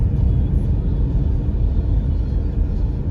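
Heavy traffic rolls along a seaside road toward Evpatoria, heard as a steady, loud, close low rumble of passing cars with no break.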